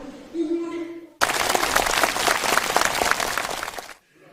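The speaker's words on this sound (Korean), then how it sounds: "전체 참가자들의 열광적인 박수 속에 채택되었습니다" Enthusiastic applause from a large crowd of participants at a festival closing ceremony in North Korea, a dense, loud burst of clapping that starts abruptly after a voice and fades out near the end.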